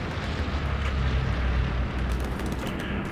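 Bombs exploding in the WWII shooter Hell Let Loose, a continuous loud low rumble of blasts filling the whole moment, with no speech.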